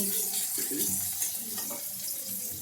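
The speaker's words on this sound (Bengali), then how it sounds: "এখন তেলে পেঁয়াজ দিয়ে নিচ্ছি তারপরে ভালো করে নাড়িয়ে ছাড়িয়ে নিই" Onions going into hot oil and being stirred, a steady close hiss and crackle with scraping clatter running throughout.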